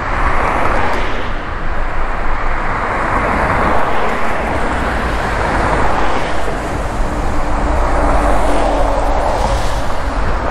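Steady, loud road traffic flows past a pedestrian-controlled crossing near a ship canal bridge in Exeter, a continuous broadband roar of passing vehicles with no pauses across the whole stretch.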